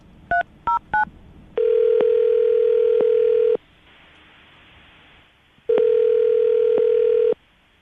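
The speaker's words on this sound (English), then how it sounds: "I'm going to dial the phone right now" Three quick touch-tone keypad beeps are followed by a steady telephone ring tone that sounds twice in long, even bursts separated by silence, clear and electronic, with no voices.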